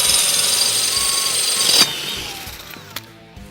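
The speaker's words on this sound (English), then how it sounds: "I can cut right down through that granite tile." A Bad Dog multi-purpose drill bit on a hammer-action drill bores through granite tile, giving a harsh, loud, gritty grinding whine up close that then eases off and stops with a few clicks.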